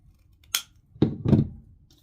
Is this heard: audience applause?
no